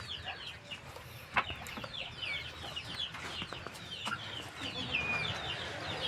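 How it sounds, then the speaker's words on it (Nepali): Chickens cluck repeatedly in a farmyard, a steady scatter of calls over outdoor background noise, with a rooster-like note now and then. "यस्तै छ, कुखुरा पनि भित्र पस्यो।"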